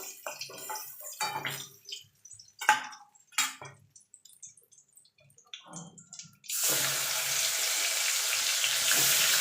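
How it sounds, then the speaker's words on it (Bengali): Koi fish dropped into hot oil in a wok: after scattered clatter and soft handling noises, a loud, steady hissing sizzle starts abruptly and keeps going to the end. "আর দুটো মাছ আমি ভেজে নেবো"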